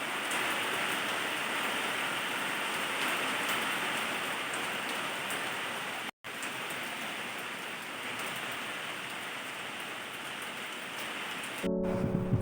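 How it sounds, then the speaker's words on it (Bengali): Heavy afternoon rain pours steadily, a dense, continuous hiss of drops striking surfaces that fills the whole stretch, broken only by one very brief gap. "দেখো প্রচুর বৃষ্টি হলো।"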